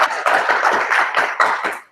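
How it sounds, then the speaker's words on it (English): Audience applauds a conference speaker at a Drupal Business Days session, a brisk burst of close hand clapping in uneven bursts lasting about two seconds before fading out. "Let's give him an applause."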